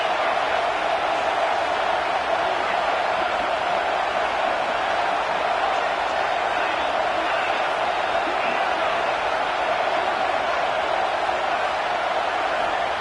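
Steady roar of a stadium crowd in a Madden American football video game, a continuous dense wash of cheering and murmur holding at an even level throughout, with a voice talking over it.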